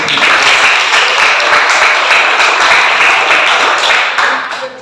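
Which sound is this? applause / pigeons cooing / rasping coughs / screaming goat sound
applause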